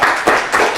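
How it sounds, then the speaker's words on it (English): A brief, loud burst of studio audience clapping for a quiz show contestant, close and dense, with a couple of swells in under a second. "Let's give Tony a little round of applause."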